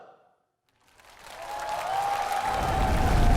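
Applause from a television talent-show audience swells up after a brief silence, building into steady, broad clapping that grows louder toward the end.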